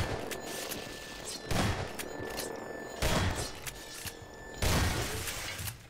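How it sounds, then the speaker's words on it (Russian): Shotgun blasts in Hello Neighbor played in Garry's Mod, four heavy booming shots spaced about a second and a half apart, with quieter mechanical clatter between them. "Двух мух с дробаша одним выстрельганом."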